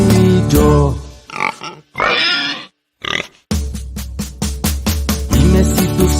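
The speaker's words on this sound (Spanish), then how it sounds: "Dime si tú sabes cómo hace el puerco." A pig grunts and oinks in a run of loud, close calls, several short bursts and pauses followed by a rapid string of rhythmic grunts, with no talking.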